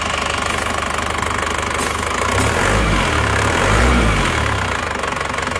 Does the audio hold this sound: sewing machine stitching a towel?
no